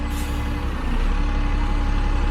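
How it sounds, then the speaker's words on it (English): A Mississauga transit bus rumbles nearby at a station with a sharp hiss of air brakes at the start, then a steady low engine drone continues under busy traffic noise. "here's a Mississauga transit bus dropping people off here at"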